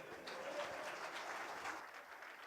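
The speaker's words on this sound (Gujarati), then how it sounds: "આટલી જ તાળી પાડશો તમે?" Audience at a Vachanamrut religious study camp session clapping together, a soft continuous patter of many hands heard from a distance, thinning out toward the end.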